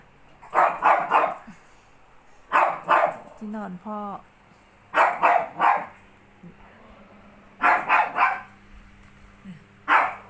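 A dog barks in repeated loud bursts of two or three close barks at a time, with a brief whimpering yip between them and people talking in the background.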